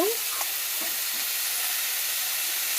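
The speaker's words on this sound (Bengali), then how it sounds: "কুমড়ো আলুটা একটু নেড়ে নিচ্ছি" Young pumpkin and potato curry frying in a pan as it is stirred: a steady, close sizzle with hissing steam and a few faint scrapes of the spoon.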